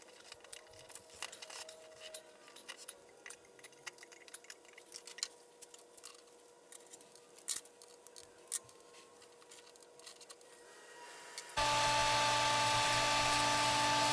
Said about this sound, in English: what I'm going to do here is basically start grinding on the inside of the ring